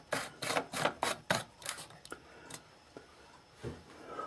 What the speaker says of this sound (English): We'll screw it into the American socket.